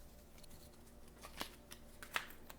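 Tarot cards shuffled by hand in a quiet room, a few faint soft riffles and two sharper card snaps standing out against low background hiss.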